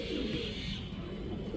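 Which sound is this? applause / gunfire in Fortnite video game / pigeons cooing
pigeons cooing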